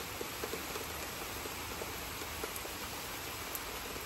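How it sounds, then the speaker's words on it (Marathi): Heavy rain pours steadily as a dense, even wash of noise with faint scattered drop taps, heard from indoors at a low level with no talking. "इतका जोरदार पाऊस सुरू झालाय आता"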